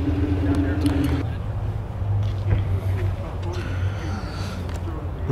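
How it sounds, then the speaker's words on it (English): Cars rolling past at a Cars and Coffee meet of modified JDM cars, steady low engine rumble close by throughout, with crowd chatter and voices mixed in. "So I hear some cars coming by."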